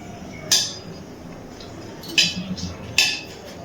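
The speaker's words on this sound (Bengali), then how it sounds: "লঙ্কা আর তেজপাতাটা একটুখানি নাড়াচাড়া করে নিয়েছি তেলে" Dried chilli and bay leaf being stirred in hot oil in a pan, heard as three sharp metallic clinks of a utensil against the pan over a faint sizzle.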